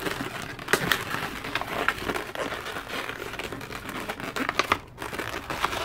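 A latex balloon is rubbed, squeezed and twisted into a cup-and-heart flower shape. Dense squeaky crinkling and scrunching sounds continue steadily throughout, close up.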